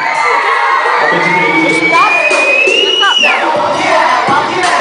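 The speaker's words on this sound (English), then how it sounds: "If it was easy, somebody make some noise." A loud crowd cheering and shouting nonstop, packed with children's voices and whoops, plus a rising then falling shrill whistle-like shout in the middle.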